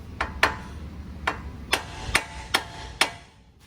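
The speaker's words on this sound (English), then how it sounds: "So make sure you just smack the spindle." Seven sharp metal-on-metal hammer blows ring out against a 2007-2018 Chevy/GMC truck steering spindle to pop the tie rod end loose, struck close by in an irregular rhythm with short gaps.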